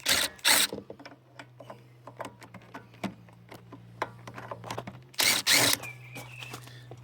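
Ratchet wrench undoing 10mm bolts on a Kawasaki FJ100 engine, rapid quiet clicking pawl ticks in short bursts, close by, with a couple of louder clattering bangs.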